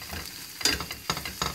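Food in a stainless steel pan sizzles faintly and steadily up close while a utensil stirs it, with three short scraping bursts cutting through the frying hiss.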